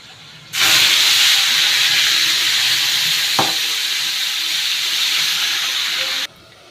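Spice paste (masala) hitting hot oil in a pan with bay leaves already tempered, after fried eggs, giving a loud, steady broadband sizzle that starts abruptly, holds for about six seconds with one brief stir-clack, then stops.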